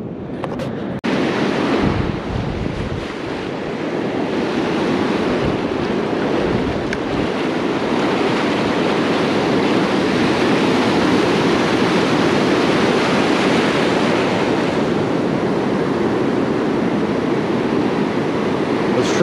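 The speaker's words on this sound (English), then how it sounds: "this white water that I got right in front of me" Rough ocean surf breaking into white water along a rocky shoreline during a fishing outing, a loud, continuous roar and wash close by, steady throughout with wind noise and no talking.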